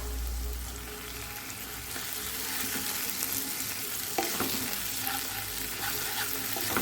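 Garlic and ginger paste sautés in a pan for a Bengali prawn curry, giving a steady, fairly loud sizzle with a sharper stirring scrape near the end and no talking.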